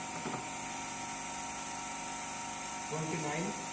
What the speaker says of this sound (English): Again we are going to change the load on 3-phase induction motor.